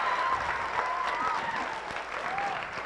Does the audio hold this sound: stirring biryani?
no